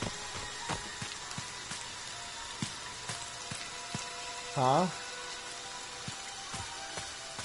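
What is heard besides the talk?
rain falling in video game Friday the 13th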